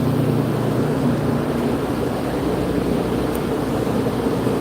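A Corvette Z06 with a cam swap roars on a dyno, a loud, dense, sustained engine drone heard close up with no pauses.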